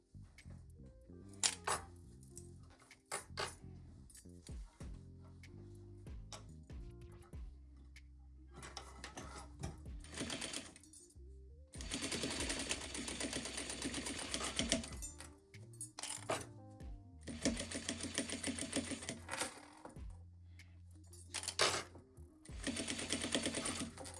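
Sewing machine stitching the side of a zippered pouch, running in loud mechanical bursts of rapid stitching separated by pauses with small clicks and handling noises.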